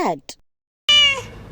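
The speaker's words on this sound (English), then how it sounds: "cat" A single clear cat meow with a strong harmonic voice, close and loud, following a short spoken word with a brief gap of silence between.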